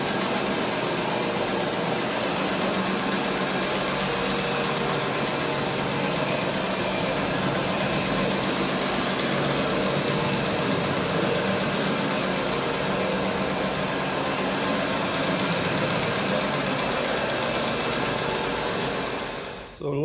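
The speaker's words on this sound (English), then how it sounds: "that's why I love using this machine to agitate" A professional carpet cleaning machine agitates a carpet with a loud, steady whirring drone that runs unbroken throughout and cuts off abruptly at the very end.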